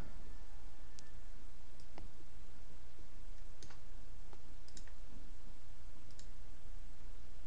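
Sparse computer mouse clicks in FreeStockCharts charting software, a few sharp, faint, isolated ticks spaced irregularly over a constant hiss with no speech.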